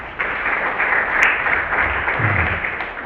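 An audience applauds at a university leadership inauguration ceremony, a steady broad wash of clapping from a crowd that holds evenly throughout, moderately loud and without speech.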